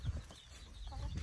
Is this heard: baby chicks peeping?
yes